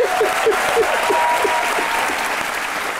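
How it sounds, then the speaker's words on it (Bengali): An audience in a televised courtroom-style talk show studio breaks into sustained, dense applause, a loud, even wash of clapping that continues throughout with some faint voices mixed in. "এই জন্য তো আমি হাততালি দেবো রাজবাবু"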